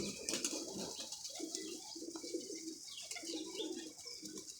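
Sialkoti pigeons coo in a low, repeated rumble, soft and fairly close, with occasional wing flutter and faint background chirps.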